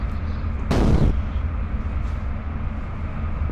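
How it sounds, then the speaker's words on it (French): One sharp, loud explosive burst stands out against steady rumbling background noise and then fades into the ongoing din. "on peut faire une explosion finale"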